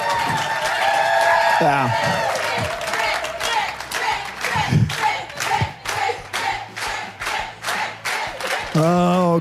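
A studio audience at a game show cheers and claps for the week's winner, with rhythmic bursts of applause and crowd shouting. A voice speaks briefly over the noise.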